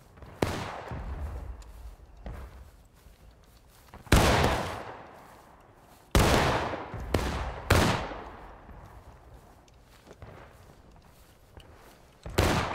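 Musket volleys from infantry in the War of Rights video game, several sharp loud shots at irregular intervals, some near and some more distant, with echoing tails between them.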